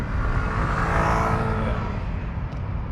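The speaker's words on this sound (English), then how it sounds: "Got another motorbike on the side of me." Motorbike passing alongside a car in rush-hour traffic, a steady, fairly loud engine whir and road roar that swells near the middle and stays close throughout.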